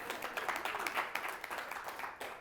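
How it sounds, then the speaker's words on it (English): An audience claps in a round of applause, a steady patter of many hands at moderate volume that holds for a couple of seconds with no clear break. "Round of applause, please."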